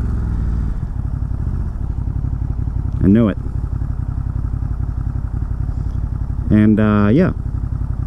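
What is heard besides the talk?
Ducati motorcycle engine running with decatted exhaust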